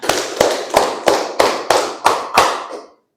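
Elementary schoolchildren in a classroom clap together in unison: seven sharp, evenly spaced claps in a steady rhythm, close and loud, then the room falls quiet.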